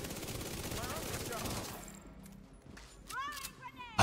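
Light machine gun fire in the video game The Division 2, a dense rattling burst up front that fades into scattered distant shots and gameplay effects.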